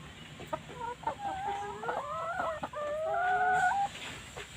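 Chickens on a farm clucking and squawking close by, several overlapping calls rising and falling in quick bursts over a low background murmur.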